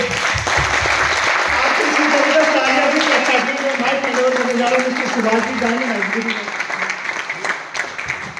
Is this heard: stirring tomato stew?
no